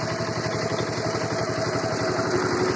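A homemade three-phase generator driven by a 2.8 kW walk-behind tractor engine runs steadily and loudly, a continuous close-up engine drone with a fast pulsing beat and a faint whine throughout, with no talking.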